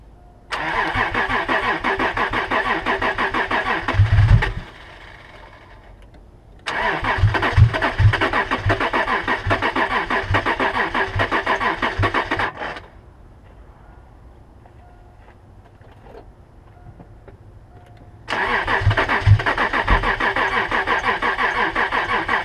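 A car engine cranks and catches using a Tacklife T6 jump starter left frozen overnight, three loud bursts of cranking and running separated by quiet gaps, close by with no talk.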